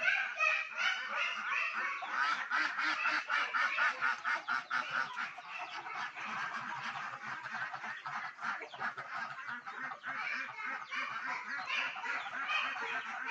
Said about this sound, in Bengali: দেখুন কত হাঁস মুরগি।